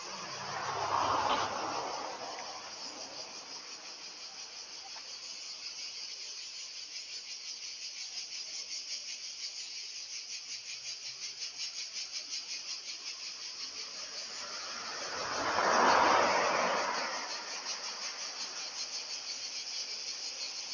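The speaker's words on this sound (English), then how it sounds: "You can really hear those bugs in the trees." Insects chirp steadily in roadside trees near a beach hotel in the resort of Argassi, Zakynthos, a continuous high buzzing drone with no pauses, joined by a couple of louder passing swells of traffic-like noise.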